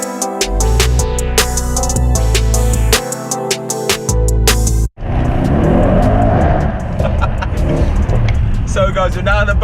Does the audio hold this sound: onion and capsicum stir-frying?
no